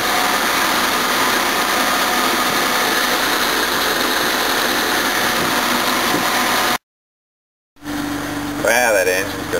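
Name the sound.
Jaguar XJ6 car engine running on first start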